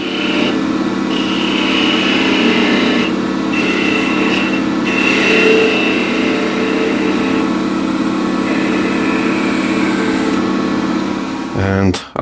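A wood lathe runs with a loud, steady whir as a turning is parted off with a small skew chisel, the motor hum continuous throughout before winding down at the very end.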